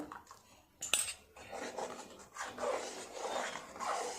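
A spoon scrapes steadily around a pot as rice paste is stirred into reducing milk for mango phirni, with one sharp metallic clink early on, then continuous soft swishing close by.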